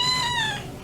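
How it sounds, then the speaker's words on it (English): A cat at an animal rescue shelter gives a single short meow, close and fairly loud, with a bright, slightly falling pitch and no talking. "You could hear him purring through the glass."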